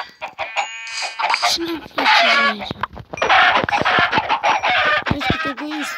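Many Minecraft chickens clucking and squawking in a busy, continuous clamor, with a person talking over them.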